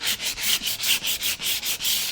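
Rapid rhythmic scratching strokes of 80 grit sandpaper rubbing along a melamine cabinet edge, close and steady, about a dozen back-and-forth passes with no voices.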